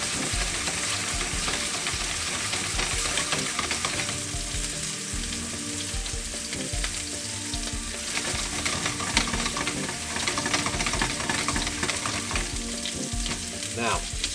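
Steak searing in a pan with mushrooms, a steady loud sizzle and crackle of frying fat with occasional stirring scrapes, continuous and close with no talk.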